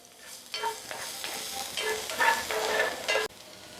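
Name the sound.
onion and garlic frying in oil in a pan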